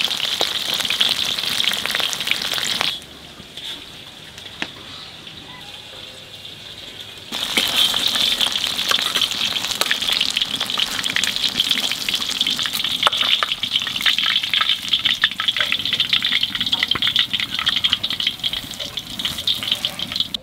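Bay leaf, dried red chilli, cumin and ginger paste hit hot mustard oil with a loud, crackling sizzle that drops away for a few seconds, then surges back, spattering steadily.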